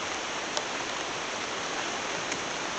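Steady rain falling outdoors, a dense even hiss with no break, at moderate loudness.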